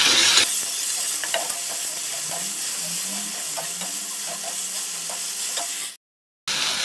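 Salt, turmeric and spices frying in oil for koi fish curry, a steady close sizzle with light stirring scrapes throughout, cutting off briefly to silence near the end.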